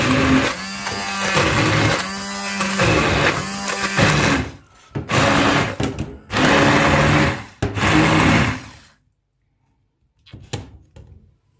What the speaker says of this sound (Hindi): ये ब्लेंडर में मैंने हाफ़ कप जो है वो माइस ली होगी और उसको मैं ब्लेंड करूँगी